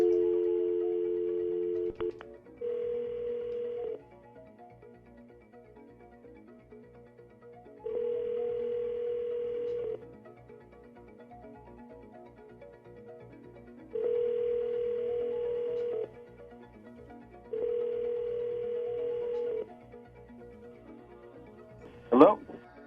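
A telephone line for a three-way call plays a steady dial tone, then several evenly spaced ringback tones with long gaps, quiet and close, ending in a short click.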